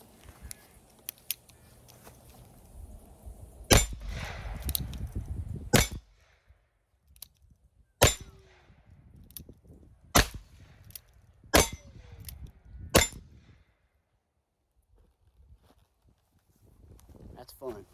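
A Ruger Old Model Vaquero revolver firing .45 Colt rounds at steel targets: six sharp, loud shots spaced a second or two apart, some with a metallic ring from the steel, with someone talking quietly between shots.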